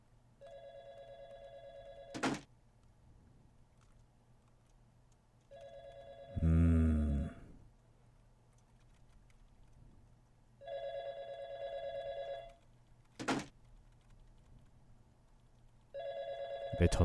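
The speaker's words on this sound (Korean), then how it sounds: "전화기 이거 아니야?" A telephone rings in repeated bursts inside a horror video game, each ring a sustained electronic tone lasting about two seconds with pauses between, alongside sharp thumps and a low rumbling hit, with no talking.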